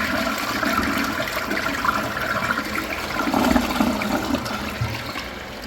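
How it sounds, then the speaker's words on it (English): A 4th-generation Briggs Proflo Altima front-flush toilet flushing, a steady rushing whoosh of draining water with a swirling surge midway, loud and close, continuing throughout with no talking. "Let's have a look at a flush."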